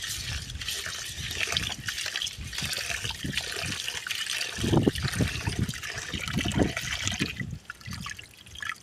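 Water sloshing and splashing in a vessel as rice is swished and rinsed by hand, irregular wet swirls up close without speech.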